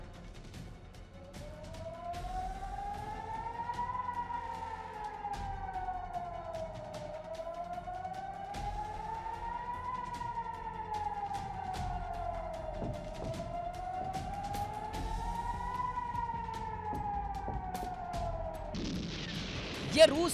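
A wailing air-raid siren rises and falls in slow, repeating cycles across a night attack on Ukraine, sounding distant and steady, with a sharp burst near the end.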